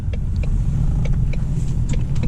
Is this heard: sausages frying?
no